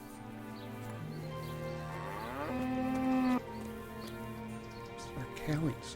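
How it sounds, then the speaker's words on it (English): A cow moos in the medieval role-playing game Kingdom Come: Deliverance, one drawn-out low moo rising clearly over a steady ambient game background, with a briefer lowing sound near the end. "Sorry, I just heard a cow. Where's the cow?"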